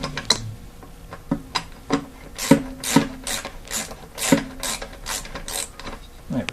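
Ratcheting clicks from a wrench unscrewing a long bolt on the tension pulley of a Vortex polisher, a series of sharp close mechanical ticks in an irregular rhythm with some faint metallic rubbing between them.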